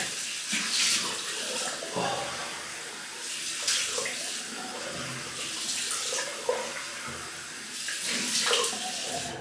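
Cold water runs steadily from a tap in rushing, uneven surges with splashing, close by and fairly loud, with no voices.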